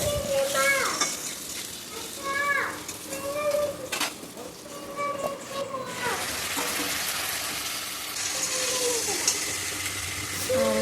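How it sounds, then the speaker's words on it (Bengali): Cut potatoes with salt and turmeric fry in a pan with a steady crackling sizzle, broken by scraping stirs, while a voice talks over the cooking and birds chirp faintly in the background. "আলুগুলোকে ভেজে নেব।"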